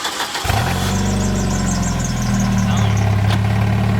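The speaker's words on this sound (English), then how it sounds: "I'll do a cold start for you guys" A manual four-cylinder car engine cold-starts with a brief crank, then catches into a loud, steady idle that holds close by, with people talking over it.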